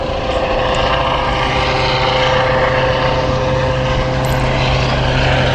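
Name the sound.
helicopter flying overhead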